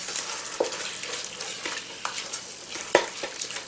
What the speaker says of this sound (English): Alright, just mix it all together.